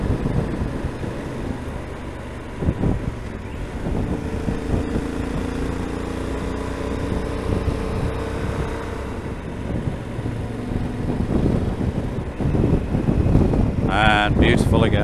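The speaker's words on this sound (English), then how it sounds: "A bit of wind." Wind blowing on the Scotland coast near John O' Groats, a steady rushing buffet on the microphone with a vehicle rumbling underneath, loud and constant, while a person speaks.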